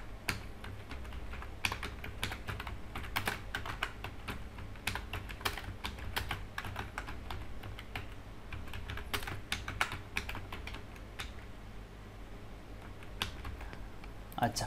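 Computer keyboard typing in a spreadsheet program: soft, quick, irregular key clicks over a low background hum, close and fairly quiet, with a voice talking at times.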